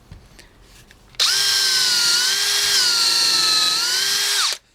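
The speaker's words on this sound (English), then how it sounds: "So it's still pretty fast with the drill." A cordless drill driving a screw whines loudly at steady speed for about three and a half seconds, then winds down abruptly.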